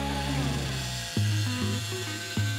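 Hilti SMT 6-22S cordless multitool with its supplied blade cutting softwood, a loud, steady high-pitched buzzing drone that restarts twice in quick bursts.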